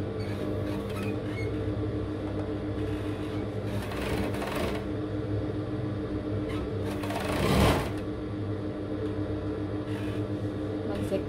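A sewing machine stitches binding onto a T-shirt neckline, with three layers clamped together, a steady close whirring hum that runs throughout with small shifts and a brief louder burst near the end.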